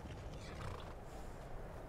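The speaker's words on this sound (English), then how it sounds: "Someone else's horse here." Horse in the video game Skyrim: a whinnying neigh over soft clip-clopping hooves, fairly quiet and steady across two seconds with no talking.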